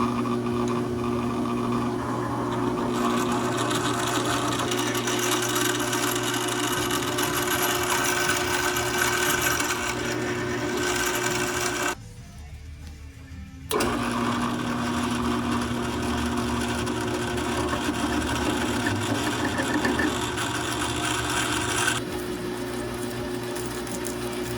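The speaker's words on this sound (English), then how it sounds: "All right, so we got it in the drill press, ready to go." Continuous whirring drone of a drill press boring through a dipstick for a John Deere 1025R tractor, running close and steady with a short dip where the bit pauses before grinding resumes.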